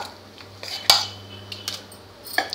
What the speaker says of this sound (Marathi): आता हे मी ह्या पातेल्यात बनवायचं आपल्याला, स्टीलच्या पातेल्यात। ते मी काढून घेते।